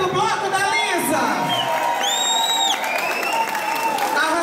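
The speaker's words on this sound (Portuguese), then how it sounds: "Eu queria muitos aplausos à minha equipe do Bloco da Lisa." A crowd applauds and cheers for the Bloco da Lisa carnival team at a pre-carnival warm-up party, loud, continuous clapping with whoops and hubbub, tonal whistle-like sounds sliding through the middle.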